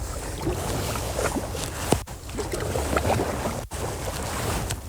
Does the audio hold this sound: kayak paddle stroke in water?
yes